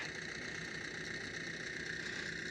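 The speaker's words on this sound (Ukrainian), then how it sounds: "На тракторі зараз включена мішалка." Tractor engine idling at a steady, even drone while the attached mixer runs, a constant moderate mechanical hum with no talking.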